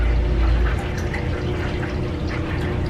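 A cat's water fountain runs with a steady trickling, splashing flow over a low hum, close and continuous.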